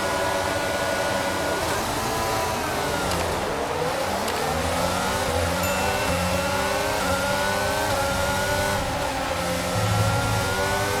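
F1 cars race at Silverstone in the F1 22 video game, with a constant loud engine drone whose pitch rises and falls through gear shifts as several cars run close together.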